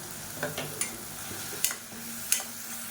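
Tomato paste with salt sautés in a pan for a simple side dish, giving a soft continuous sizzle broken by a few sharp clinks and scrapes of a spoon stirring against the pan.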